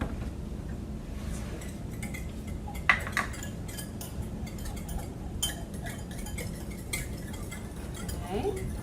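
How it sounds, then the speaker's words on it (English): Ingredients being whisked in a bowl for pan de muertos: light, repeated metallic clinks and taps against the bowl over a steady low background hum, with a few sharper knocks. "And then just whisk it."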